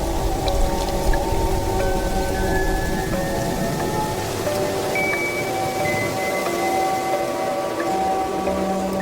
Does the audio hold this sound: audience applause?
no